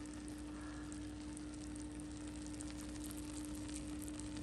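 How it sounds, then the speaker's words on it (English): Hot caramel still sizzling on a freshly baked apple tarte tatin, a faint steady crackle and fizz over a low electrical hum, with no voices. "You can hear the caramel sizzling still."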